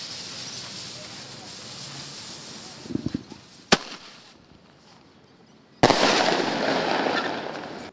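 Outdoor hiss and murmur in Manaus broken by a few sharp firework bangs, then a loud, sustained crackling burst of fireworks.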